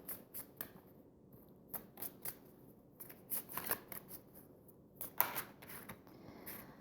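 Dixit cards being shuffled and handled during a tarot reading, soft quick riffling bursts and papery flicks in an uneven rhythm, close and quiet with no talk.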